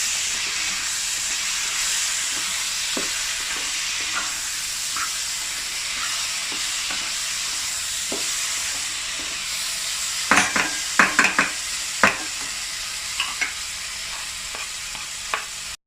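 Capsicum and other vegetables are stir-fried for spicy chicken pasta, a loud steady sizzle and hiss with a run of sharp spatula clatters against the pan in the second half, with no talking.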